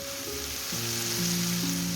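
Chicken frying in a pan for white sauce pasta, a steady close sizzle with a faint hum running underneath, no talking.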